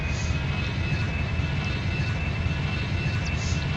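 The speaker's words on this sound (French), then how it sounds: "Poussée arrière." Airbus A320 reverse thrust during landing at London City Airport in a flight simulator: a steady, loud, dense engine roar with low rumble and a thin high whine, continuous throughout with no talk.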